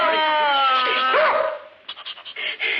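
A dog gives a long, drawn-out whining yelp with a sliding pitch, then a run of short, quick, choppy yaps, all close and loud with no talk over it.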